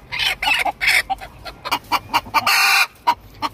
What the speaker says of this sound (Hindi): ये हमारी मुर्गी जो अंडे दे रही है